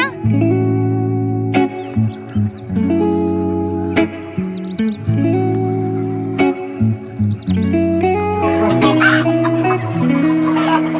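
Village chickens cluck repeatedly in close, loud bursts with short pauses between, ending in a busier flurry of clucks and scratchy noise.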